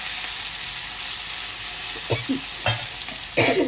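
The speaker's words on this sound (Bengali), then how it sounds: "আর বেগুনটাও দিয়ে দেবো, একসাথে ভাজা ভাজা হয়ে যাবে পুরো।" Green chilli and eggplant fry in a pan with a steady crackling hiss, joined near the end by scraping stirs and a few utensil knocks, close up.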